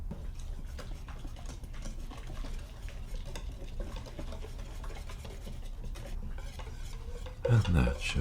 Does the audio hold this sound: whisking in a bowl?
yes